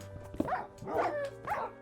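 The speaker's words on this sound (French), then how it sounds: "Oh, c'est des chiens trop mignons." Dogs in the Minecraft video game give three short, evenly spaced barks, each with a whiny tone, clear and close.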